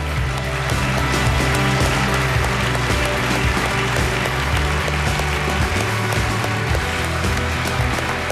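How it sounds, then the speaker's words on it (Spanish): Dense audience applause fills a ceremony hall, a loud continuous clatter of many hands held steady throughout with no voices over it. "¡Un aplauso!"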